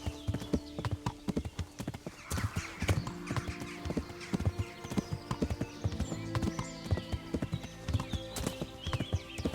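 Horse hooves clip-clop in a quick, uneven rhythm as a rider travels through deep woods in the video game Kingdom Come: Deliverance, the hoofbeats close and clear over a soft forest background.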